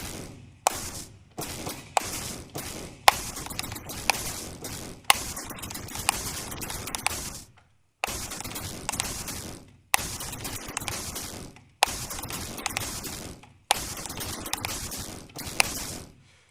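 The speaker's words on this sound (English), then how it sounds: "And these are more industrial sounds." Harsh, noisy industrial clanks and scraping bursts repeat in a looping rhythmic pattern, separated by brief gaps of silence.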